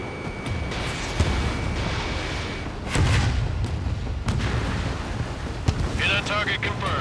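Missile explosions in Ace Combat 7 arrive as several heavy booms and blasts over a constant roar of wind and jet engine, with sharp impacts spread through the stretch and a voice speaking briefly amid the action.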